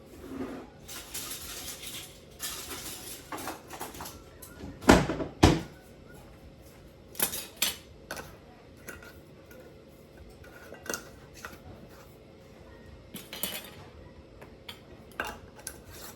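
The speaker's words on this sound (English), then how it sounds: "Now let's put our lids on." Metal lids clatter and clink onto glass canning jars of cranberry juice in a home kitchen, with a sharp cluster of bright clanks around the middle and scattered lighter taps and knocks before and after.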